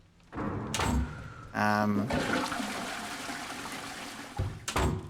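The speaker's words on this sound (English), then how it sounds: "if I activate the toilets, will it drain the water from the bathtub?" A toilet in Resident Evil Requiem flushes with a rushing surge of water that swirls and gradually fades, preceded by a mechanical clunk of the handle and followed by a few closing knocks.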